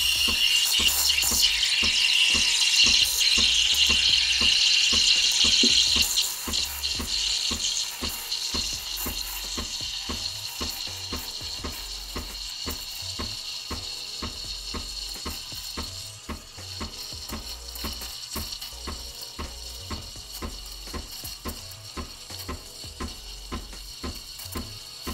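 Breville Barista Express steam wand heating milk at close range, a steady loud hiss with bubbling and gurgling throughout, strongest in the first few seconds, then settling into a slightly quieter continuous sizzle.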